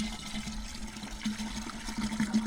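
Liquid sealer glugs and splashes as it is poured from a full gallon can with the spout held at the top, a continuous, fairly close pouring sound with a low hum beneath.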